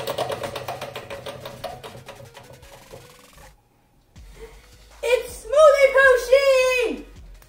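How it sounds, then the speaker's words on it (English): A Wheel of Pusheen prize wheel is spun and clicks rapidly against its pointer, the ticks slowing and stopping after a few seconds; after a brief silence an excited voice exclaims. "Let's spin the wheel."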